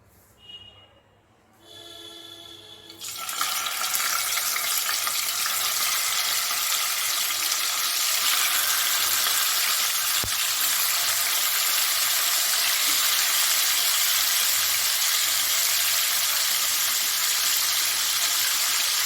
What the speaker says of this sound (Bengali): ভালো মতন মাছগুলোকে ভেজে নেবো